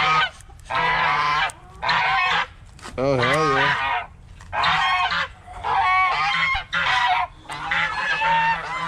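Chinese geese on a farm honk loudly and close by in a run of repeated bursts with short gaps between them, and someone speaks briefly among the calls.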